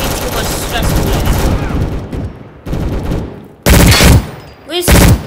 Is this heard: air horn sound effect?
no